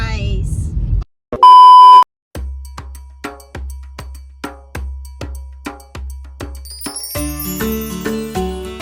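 A single loud electronic beep rings out near a car for under a second, followed by a steady series of rhythmic thumping pulses with busier tonal sounds building toward the end.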